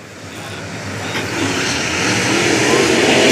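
Engines roar and build steadily as a pack of race cars accelerates together on a restart at Brownstown Speedway, loud and rising throughout, with a broad mechanical drone.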